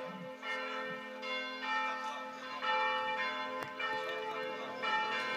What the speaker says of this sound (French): Et les cloches de Romans qui sont de la fête.